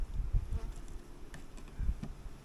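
Bees buzzing nearby, a low droning hum that swells in a few short bursts with faint handling noises.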